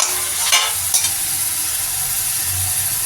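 Green chilies and tomatoes stir-frying in a pan for besan barfi curry, a steady close sizzle with a couple of sharp spatula scrapes early on, no voices.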